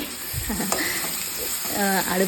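Hot oil crackles and sizzles as curry leaves are stirred in a pan, a steady frying hiss with brief scraping sounds.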